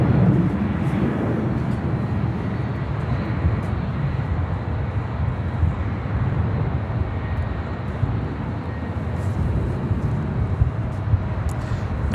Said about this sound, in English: Next arrival here on the north side, Spirit Airlines Flight 867 coming in from Dallas, Fort Worth, Texas, in an A320